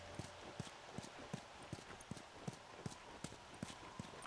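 Horse hooves clip-clop steadily in The Last of Us, an even, faint rhythm of muffled hoofbeats at a walking pace heard alone over a low ambient hiss.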